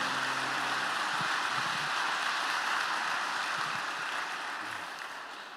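Church congregation applauding during a Spanish-language service, a broad sustained wash of many clapping hands heard from a distance, steady and then tapering slightly at the end.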